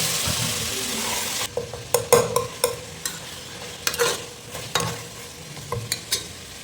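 Already-boiled beef sautéing in oil in a pan for a gravy: an underlying sizzle broken by repeated scraping, stirring strokes and light utensil knocks against the pot, with no one speaking.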